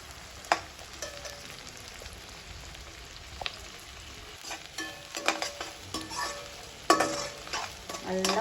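Onions being stirred and sautéed in a pan for a fish curry, a low steady sizzle broken by scraping strokes of the spoon, which come more often and louder toward the end. No one speaks.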